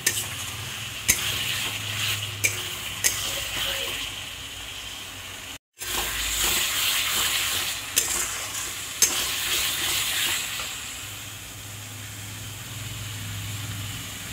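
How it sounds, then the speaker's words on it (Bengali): Spices with Kashmiri chili powder sizzle and fry in a pan for chitol fish curry as a spatula stirs them, with steady frying hiss and occasional sharp scraping clicks. "দিয়ে এটাকে আবার কষিয়ে নিচ্ছি।"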